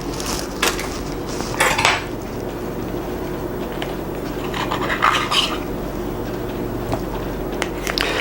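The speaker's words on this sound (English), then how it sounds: "So I'm going to beat this until it's smooth" Softened cream cheese is beaten in a bowl for chocolate truffles, giving a steady close clatter and scrape of a utensil against the bowl, with sharper knocks now and then.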